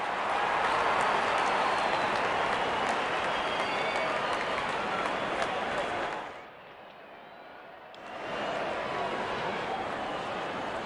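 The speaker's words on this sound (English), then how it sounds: "and the crowd are jeering them on" A crowd roars in a video game cricket match in RC Swipe, a dense, loud wash of cheering and noise that drops to a thinner murmur for about a second and a half before swelling back.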